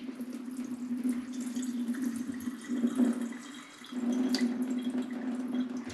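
Milky rinse water from rice drains into a kitchen sink, a steady trickling and gurgling pour with faint drips, moderately close and without speech.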